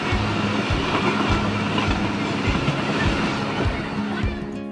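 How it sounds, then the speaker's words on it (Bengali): The Tamralipta Express runs at full speed, a loud rolling rumble from inside the train with a steady, rhythmic clickety-clack of wheels over rail joints. "আমাদের ট্রেনটি এখন তার সম্পূর্ণ গতিতে ছুটে চলেছে"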